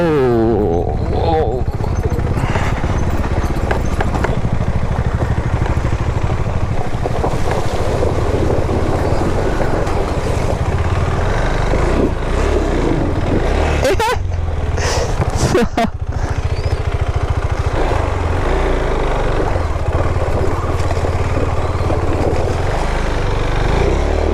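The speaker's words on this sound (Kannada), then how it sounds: "ಈಗ ನೀರಿಗೆ ಹೋಗ್ತದೆ ಬೈಕ್" Loud, steady rushing roar with sloshing water and engine noise, continuous throughout, as a KTM Adventure 390 or Dominar 400 motorbike pushes through water near Kudremukh; a brief gust-like burst in the middle.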